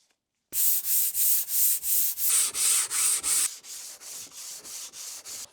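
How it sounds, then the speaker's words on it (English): An old, cheap hand plane has its sole sanded smooth and flat, producing a close, loud rasp in about eleven steady back-and-forth strokes that grow slightly softer and quicker toward the end, with no talking. "So now I just need to work on smoothing it out."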